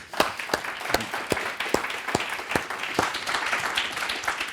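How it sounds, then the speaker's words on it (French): An audience at a university three-minute thesis competition final applauds the participants. The clapping is moderately loud and sustained, with a few distinct sharp claps standing out near the front. "Peut-être qu'on peut les applaudir."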